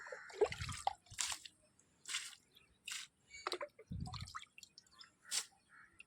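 Water sprinkled by hand over a garden soil mix for a terrace garden, giving scattered soft wet drips and splashes in irregular bursts, fairly close and quiet.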